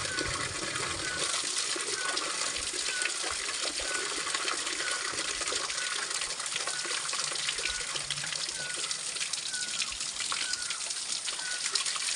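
Spring water pouring into a container in a mountain village, a continuous bright gushing and splashing that stays steady and close for the whole stretch, with no one talking.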